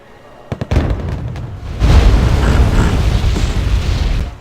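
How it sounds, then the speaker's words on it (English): Video-game artillery fire and explosions boom in a continuous loud barrage, opening with a few sharp close blasts and settling into a heavy, rumbling wash of distant detonations. "Artillery's still flying around. These guys are still fighting over there."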